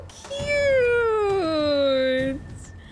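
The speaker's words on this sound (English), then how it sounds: "Wait, I gotta pet the cat." A cat in Assassin's Creed 3 lets out one long, drawn-out meow that falls in pitch and then wavers, loud and close, with no talk over it.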